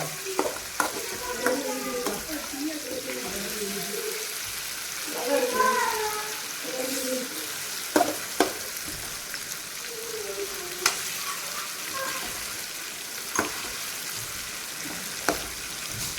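Chicken pieces fry in a pan for chicken rice and get turned over, with a steady sizzle broken by clattering scrapes and knocks of the utensil while someone talks over the cooking.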